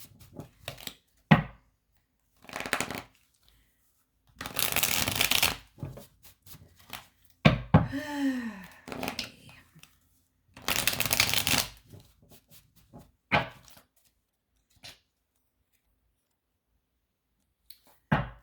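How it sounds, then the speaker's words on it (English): A deck of playing cards shuffled repeatedly: crisp riffling bursts and short clicks come in irregular spurts, separated by quiet pauses, close up and without speech. "I've been shuffling everything. Pre-shuffling."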